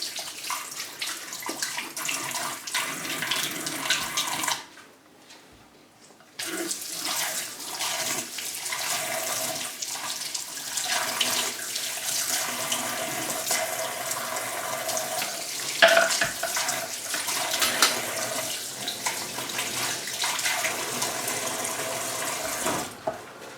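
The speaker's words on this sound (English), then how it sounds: "Rinse my hands off, don't like dirty hands." Tap water runs steadily into a kitchen sink as hands are rinsed, a loud close hiss that stops briefly partway through and then resumes for a long stretch.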